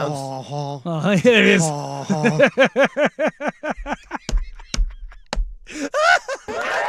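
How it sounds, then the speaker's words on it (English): A bird gives a loud run of rapid, goose-like honks, about a dozen evenly spaced calls in a row. Speech comes before and after the calls. "that sound you hear, that bird,"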